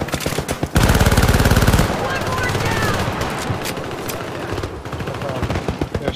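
A turret machine gun fires in the co-op shooter Syndicate, a loud, close, rapid stream of shots that stops abruptly and then gives way to scattered gunfire and battle noise. A voice speaks briefly in the background.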